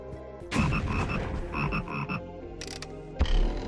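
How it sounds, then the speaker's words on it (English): Frogs croaking in the Forbidden Forest 3 PC game, a burst of raspy, ratcheting croaks in quick rhythmic pulses, loud and close, with no talking. "Frogs."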